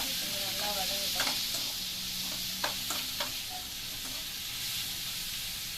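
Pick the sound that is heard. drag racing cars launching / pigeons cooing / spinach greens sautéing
spinach greens sautéing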